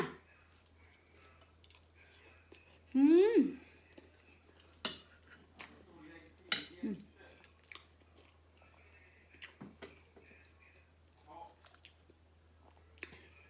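Quiet, intermittent chewing and biting of braised pork leg, with occasional clinks of cutlery against dishes and a brief vocal sound, all sparse and close in an otherwise calm setting.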